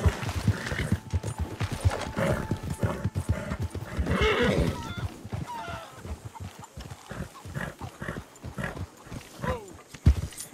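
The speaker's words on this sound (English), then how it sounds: "Hitch my horse over here." Horse hooves clip-clopping and a loud whinny from a horse in the video game Red Dead Redemption 2, with rhythmic hoof beats throughout and a snorting neigh in the middle, with game sounds mixed around.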